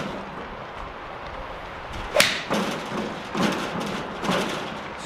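Golf balls struck with a PING G410 iron, four sharp impacts spaced about a second apart, each a crisp click with a short ring over steady outdoor background noise, no talking.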